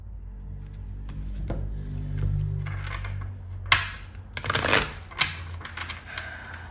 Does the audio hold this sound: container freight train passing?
no